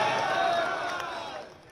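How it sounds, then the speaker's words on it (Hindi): A large crowd at a public rally held by Chief Minister Mohan Yadav roars with cheers and chanting for Mahakal, loud and close at first, then gradually fading. "तो जोरदार तालियां बजा करके बोलो"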